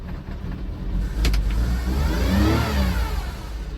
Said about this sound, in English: Again, carbureted vehicle starting right up, 23 degrees out.